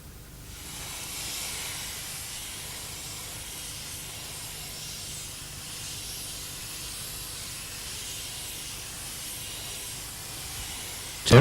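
Terrastat 9320 seam sealer sprays steadily from a gun as an even, close hiss that holds unbroken for about ten seconds, ending in a brief louder burst.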